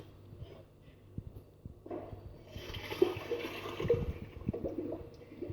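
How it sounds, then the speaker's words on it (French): Cooked pasta is drained, with water pouring and splashing into a sink in a rising rush that grows louder and gurgles toward the end after a few quieter kitchen knocks. "Je vais égoutter les pâtes parce que, comme je vous disais, ça cuit rapidement."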